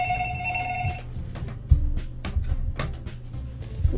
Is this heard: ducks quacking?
no